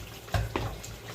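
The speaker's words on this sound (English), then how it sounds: "Empty the water." Water is poured out of a bowl in a kitchen sink. A steady, close splashing and running wash lasts about a second, with a couple of small splashes inside it.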